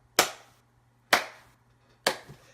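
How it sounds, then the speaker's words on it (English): Three sharp, separate hand claps from a single person, spaced about a second apart, close and crisp against a quiet background with a faint steady hum. "But I'll give you a clap."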